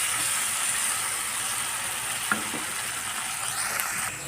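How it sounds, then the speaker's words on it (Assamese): Masala frying with onions in a pan for broiler chicken curry, a continuous close sizzle with an occasional stirring scrape and clink, no talking. "মছলা ভাজি আছে।"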